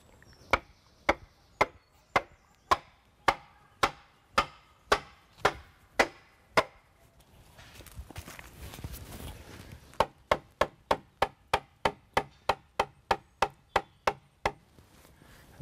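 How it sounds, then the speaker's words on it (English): Rapid, evenly spaced wooden knocks from a mallet driving a wooden peg into a timber-frame joint, two long runs of blows separated by a brief rumbling pause. "we then knock in the peg."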